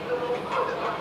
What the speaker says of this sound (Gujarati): આ અમારી ટ્રેન છે.